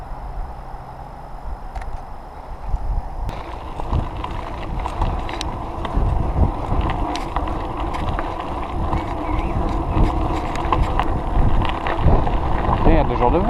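Wind buffets a microphone while cycling along a path, a steady roaring rush throughout, mixed with faint rolling noise and occasional clicks.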